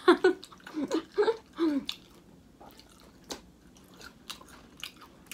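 Spicy KFC fried chicken being bitten and chewed up close, several crunchy bites in the first two seconds followed by softer chewing and small mouth sounds, with no talking.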